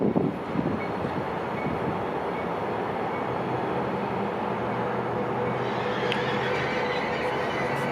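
An Amtrak Pacific Surfliner train hauled by new Charger locomotives rolls by with a loud, continuous rumble and wheel noise, with a faint squeal and some wind buffeting.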